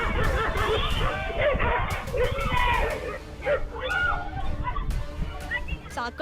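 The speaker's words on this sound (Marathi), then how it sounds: "भटक्या कुत्र्याच्या टोळक्यांनी थेट चिमुकल्या मुलावर हा असा प्राणघातक हल्ला केला" A pack of stray dogs yelps, barks and whimpers in a chaotic burst during an attack on a small child, with voices shouting over the noise.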